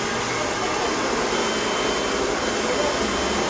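A hair blow dryer runs steadily in a beauty salon, a continuous close whooshing roar of air that holds level throughout with no pauses.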